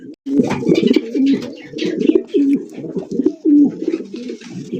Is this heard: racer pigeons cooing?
yes